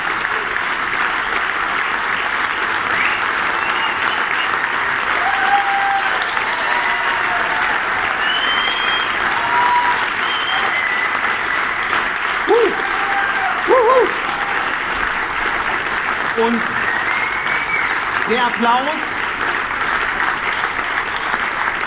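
Studio audience at a German TV game show, Duell der Jahrzehnte, applauds without letup for about twenty seconds, a dense, loud, even wash of clapping with a few scattered whoops and whistles and brief voices rising above it.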